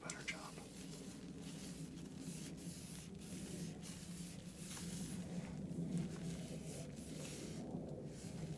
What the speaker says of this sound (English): I'm actually going to put a little spray on this because I think this might do a better job.